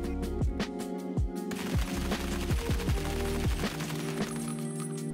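Rapid bursts of SCAR-L rifle fire in Escape From Tarkov, loud and close, with sharp repeated shots in quick automatic strings across the whole stretch and no talking.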